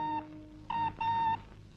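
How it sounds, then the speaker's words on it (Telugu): An indoor telephone rings in a comedy film scene, three short electronic trill bursts separated by pauses, moderately loud and without talk. "రంగమ్మా, ఫోన్ తీసుకురా."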